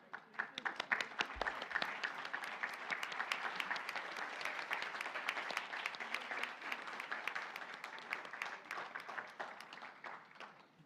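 A church congregation applauds newcomers and returning members standing in the service, steady sustained clapping from many hands filling the room at moderate volume throughout.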